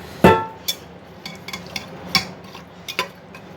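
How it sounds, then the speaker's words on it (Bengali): The lid of a pressure cooker being locked on, with one sharp metallic clank followed by several lighter clicks and taps. "প্রেশার কুকারে ঢাকনিটা আটকে দেবো।"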